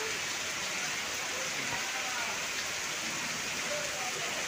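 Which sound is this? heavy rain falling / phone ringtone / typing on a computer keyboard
heavy rain falling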